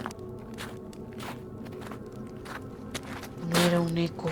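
A second set of heavier footsteps crunches over gravel at night in a quiet village, rhythmic steps close by with a brief louder scrape near the end, no voices.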